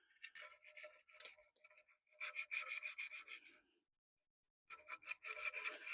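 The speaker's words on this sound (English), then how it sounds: "We're just going to scrape that off real quick, best we can." A razor blade scrapes old gasket material off the metal primary case of a 1989 Harley FLHT Evo. The raspy strokes are close and gritty, come in two bursts with a brief silent pause, and no voice is heard.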